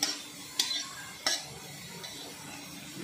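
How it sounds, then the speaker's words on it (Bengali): Green chillies fry in a pan of oil with a low, soft sizzle, broken by a couple of sharp utensil scrapes and clinks as they are stirred, with no talking. "এই বিচি কলার ভর্তাটা মাখানোর জন্য আমি কয়েকটি লঙ্কা ভাজা করে নিচ্ছি।"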